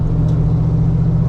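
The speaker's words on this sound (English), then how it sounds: "Spins the tires now from a dead stop" A Fox body Mustang fitted with a GT40 top end, E303 cam and automatic transmission rumbles heavily at close range as it launches from a standstill, a dense, continuous low engine roar with no pauses.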